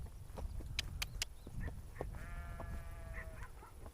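Lambs bleat several times over a noisy outdoor background, with faint chirps and wind, the calls moderately distant and overlapping.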